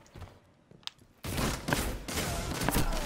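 Sustained gunfire in the Destiny 2 video game, a loud dense burst of shots that starts abruptly after a quieter stretch of sparse sounds and continues steadily to the end.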